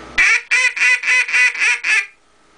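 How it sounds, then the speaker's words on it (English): An H&R duck call blown in a bouncing hen comeback sequence, seven evenly spaced loud nasal quacks with a slight squeal, each sharply cut off, sounding close and alone. "I'll do a comeback call. It's called a bouncing hen."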